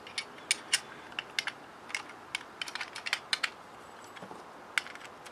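A pipe wrench turns a bolt, nut and washers puller to draw a bearing out of an idler pulley. It gives a run of sharp, light, irregular clicks close by with no talking.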